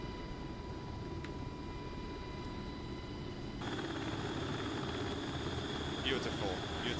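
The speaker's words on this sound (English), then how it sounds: "Beautiful, beautiful little helicopter." UH-60L Black Hawk helicopter in the DCS flight simulator, heard from the cabin: a steady, loud broadband rotor and turbine roar with a whining engine tone that shifts partway through.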